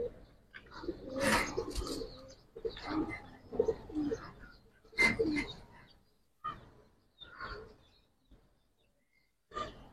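Giribaz pigeons coo close by in soft, irregular rolling bursts with short pauses between them, alongside occasional chirps and a voice at a pigeon sale.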